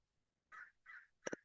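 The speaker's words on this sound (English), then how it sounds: "You might even be able to hear our bird here." Three harsh caws from a crow, the last one doubled, fairly faint and a little distant.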